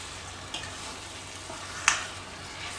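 Food being stirred in a frying pot gives a faint, low sizzle with one brief scrape or clink partway through; there is no talking.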